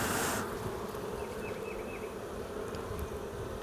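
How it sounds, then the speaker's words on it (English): Dense, continuous buzzing of many honeybees close by at an open hive, a steady droning hum with occasional higher-pitched wingbeats passing near. "there's a lot of bees on here"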